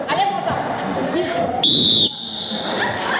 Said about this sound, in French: Heureusement qu'il y a eu le coup de sifflet